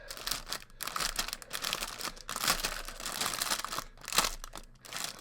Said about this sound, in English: Oh, rustling Batman